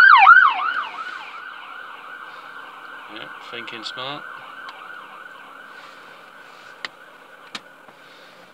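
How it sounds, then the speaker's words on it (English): An ambulance siren wails in traffic, loud and close at first, then fades steadily as it passes while someone speaks briefly and road noise carries on underneath. "Got an ambulance coming up behind me"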